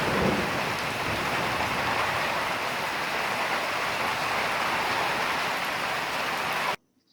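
Steady heavy rain from a thunderstorm pours for nearly seven seconds, a dense continuous wash with low thunder rumbling underneath, then cuts off abruptly into silence.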